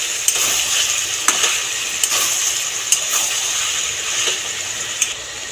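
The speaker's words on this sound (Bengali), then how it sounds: "ফের আবার ভালো করে কষতে থাকবো।" Dhaniya chicken with onions and ground coriander leaves being sautéed and stirred in a pan, a steady frying sizzle with regular scraping strokes of a spoon roughly every second.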